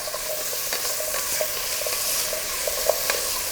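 About 300 g of potatoes stir-fried in butter in a pan, giving a steady loud hiss of sizzling with light clinks and scrapes from stirring, close and with no one talking.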